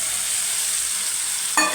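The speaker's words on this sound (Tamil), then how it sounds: "கழுவி வச்சுருந்த சிக்கனை தூக்கி போட்டு நல்லா ஃப்ரை பண்ணிவிடுங்க." Washed chicken sizzles in a pan with tomato for chicken gravy, giving a continuous close frying hiss, followed by a sudden short scrape or clatter at the end as it is stirred.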